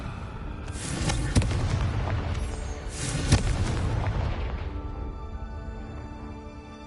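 Repeated Confringo blasting spells erupt in Hogwarts Legacy, with loud booming bursts, sharp cracks near the middle, and dense rumbling debris that fades into a quieter tail.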